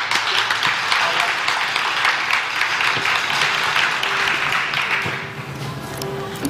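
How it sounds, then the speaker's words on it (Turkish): A studio audience on a Turkish entertainment show bursts into sustained applause, dense and loud clapping that holds for several seconds before thinning out toward the end. "bir alkış alalım valla"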